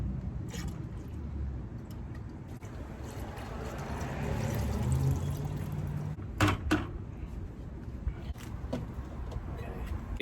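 Engine coolant pouring out of a removed hose on a 1998 Jeep Wrangler TJ: a steady liquid splash and trickle lasts throughout, faint to moderate, with a few clinks near the middle.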